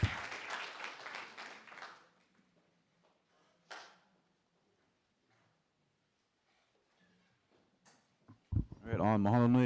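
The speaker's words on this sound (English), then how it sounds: "Can we get another round of applause for Kainalu?" Brief burst of audience applause for a presenter at a symposium, a short clatter of clapping at the start that quickly dies away, followed by near silence and then a voice speaking.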